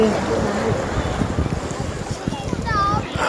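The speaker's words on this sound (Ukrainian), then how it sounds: "тут багато катерів, катамаранів плаває і тут хвилі" Motorboats and catamarans on choppy water off a beach in Calabria, waves slapping and washing steadily with wind buffeting the microphone, a motor faintly in the background, voices over it.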